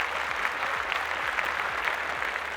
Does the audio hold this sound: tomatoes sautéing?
no